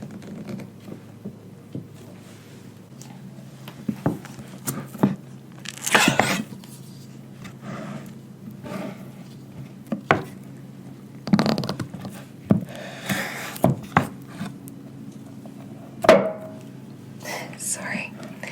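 A knife cutting a firm, buttery candle-making ingredient into small pieces, scattered soft slicing taps and scrapes close up over a quiet steady hum, with a few louder cuts.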